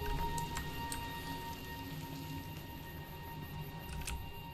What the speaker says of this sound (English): The rain just comes and goes